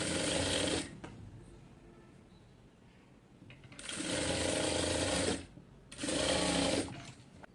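A sewing machine stitches a quarter-inch fabric seam while a zipper is fitted into a frilled frock or kameez, running in three loud whirring bursts separated by quiet pauses.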